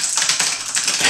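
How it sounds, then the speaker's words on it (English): Quick, loud clacking keystrokes come from a Razer Huntsman Elite keyboard with linear switches, typed in a fast, steady run close up with no talking. "The keys are very loud."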